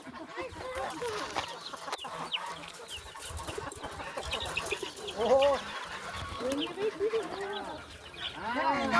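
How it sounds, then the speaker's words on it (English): Chickens clucking and calling in a village yard in Purul, busy overlapping bird calls mixed with children's and adults' voices nearby. "Go to the chicken."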